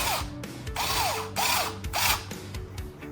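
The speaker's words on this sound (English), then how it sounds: "Just install the screws around the base plate" A cordless power driver runs screws into the base plate of a UD1002P RC car chassis in several short whirring bursts, close and loud, each winding down as a screw seats.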